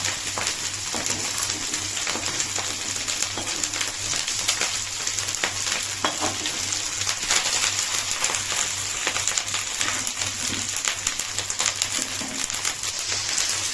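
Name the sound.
chicken curry masala frying in a pan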